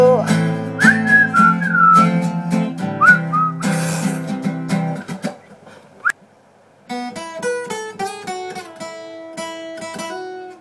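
Whistled melody in a soul song, rising and falling phrases over a full band with steady instrumental backing, fairly loud and up front; the whistling drops out midway and the music continues.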